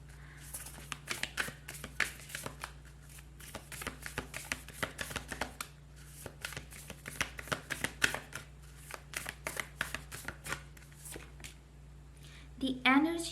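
Oracle cards being shuffled by hand during a tarot reading, a steady run of quick papery riffles and taps that continue throughout, with soft talk-like sounds in the background.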